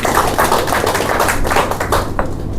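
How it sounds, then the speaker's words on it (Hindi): Clapping from an audience at a memorial gathering honouring a speaker, dense and steady for a few seconds at close range, with no voices over it. "जोरदार तालियां उनके लिए।"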